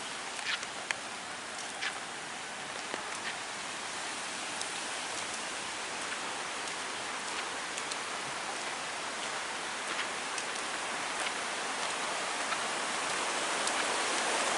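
Steady afternoon rain falling over a village in Sragen, a dense even hiss with scattered sharper drips, no voices.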